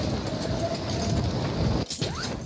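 A train rolls past in a video game with a steady rumbling clatter that drops off suddenly near the end, leaving a brief rising squeal.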